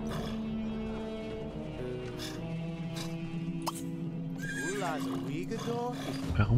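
A horse in The Sims 3 lets out a wavering whinny partway through, heard over sustained, steady background tones, with a brief louder burst at the very end.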